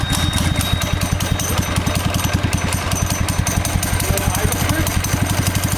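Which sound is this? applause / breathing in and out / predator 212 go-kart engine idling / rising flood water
predator 212 go-kart engine idling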